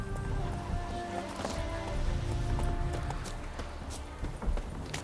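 Roach, a horse in The Witcher 3, trots with steady clip-clopping hooves over a busy ambient game background, fairly close and continuous.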